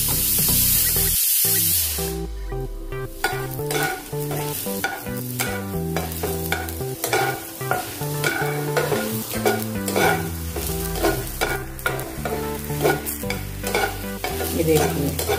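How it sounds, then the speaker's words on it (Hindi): Ginger, garlic and dried red chilies are frying in oil for a potato and bottle gourd curry: a steady, close sizzle with a loud hiss at the start and frequent stirring scrapes throughout, with no talk. "अभी अदरक लहसुन और सूखी वाली लाल मिर्च को अच्छे से हमने भून लिया है।"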